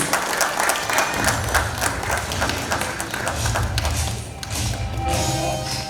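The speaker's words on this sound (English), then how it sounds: "A round of applause once again, please." Conference audience at the International Inclusion Alliance gives a sustained round of applause, loud dense clapping with some thumps and crowd noise filling the room throughout.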